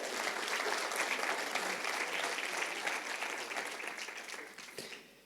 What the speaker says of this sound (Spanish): Eso, damos un aplauso a Jesús por eso.